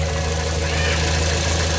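A 2012 Toyota Vios engine idles smoothly, a close, steady low hum with an even rhythm and no talk over it.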